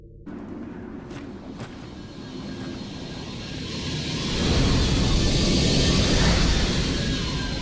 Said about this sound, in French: Burns, faites en sorte que Super 35 atterrisse sur la rive opposée.